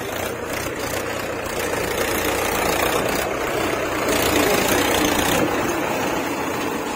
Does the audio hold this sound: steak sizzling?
no